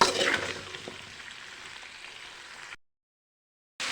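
Vegetables for sambar frying in hot oil and being stirred in a pan, a steady soft sizzle with faint scraping, louder at first and then cutting off abruptly.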